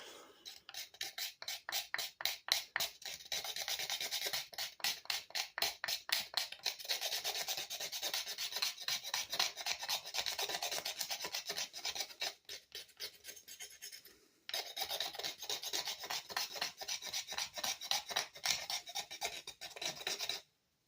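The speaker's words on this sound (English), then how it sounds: "let's take a fresh piece of this. And with the time that's available to us, let's do some scraping." Steady rhythmic scraping on a fresh piece of hard material, with rapid back-and-forth rasping strokes running for about twenty seconds and a brief pause midway. Close and clear, with no talking.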